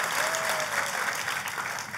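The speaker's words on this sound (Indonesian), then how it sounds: "Tepuk tangannya boleh yang meriah buat Tuhan kita yang luar biasa." A church congregation claps enthusiastically in praise, a dense, steady wash of applause filling the room without any voices over it.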